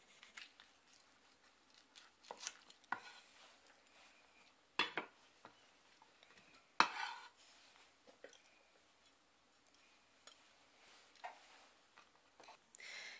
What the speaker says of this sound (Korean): 청피망 길이도 양파와 같이 길이를 5cm로 맞춰서 썰어줍니다